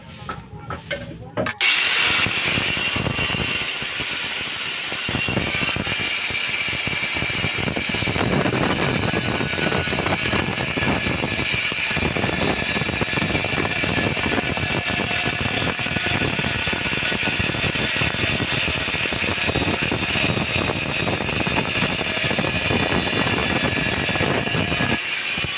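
An angle grinder cuts a 45-degree edge into a ceramic tile, starting with a sharp spin-up and then a loud, continuous, rasping whine that runs without a break for over twenty seconds.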